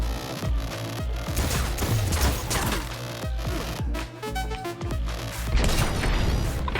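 Gunfire in the video game Cyberpunk 2077, dense overlapping bursts of shots and crashing impacts layered over a loud, busy game soundtrack, continuous throughout.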